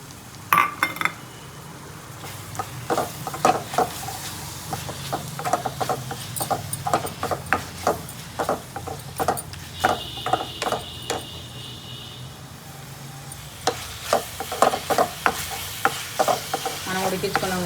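Boiled tripe is stirred into softened tomatoes in a pan, with a low sizzle under repeated scraping and clacking of a spoon against metal in an uneven rhythm, no voices.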